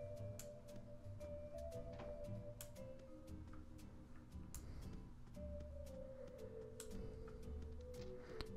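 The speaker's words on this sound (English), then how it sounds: "Sorry if you can hear my keyboard a little bit. It's a cherry switch, so it does make a little bit of noise." Faint, irregular clicks of typing on a Cherry-switch mechanical keyboard sound under quiet, steady game music, with no talking.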